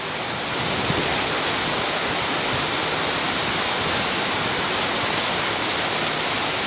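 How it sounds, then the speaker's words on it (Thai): Steady, dense rain pours down continuously beside a canal, a broad hiss with no voices. "ฝนตกที่ริมคลองมาฝากกันนะฮะ"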